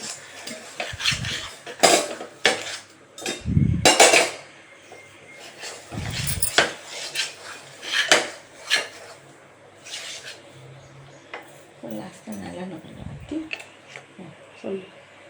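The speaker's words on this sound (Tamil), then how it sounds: "வறுத்த அரைச்ச உளுந்த இதில் போட்டு கிண்டிகிட்டே இருக்கணும்." Roasted, ground black urad dal stirred in a pot for kali, giving intermittent scraping and clanking of a utensil against the pot, close and moderately loud, with brief pauses between strokes.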